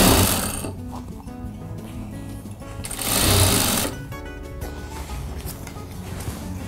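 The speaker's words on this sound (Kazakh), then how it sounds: "Келтіреміз де айландырып тігіп шығамыз." A sewing machine stitches a seam on cloth, running steadily and loud at close range, its motor rising briefly in speed midway before settling back, with no talk.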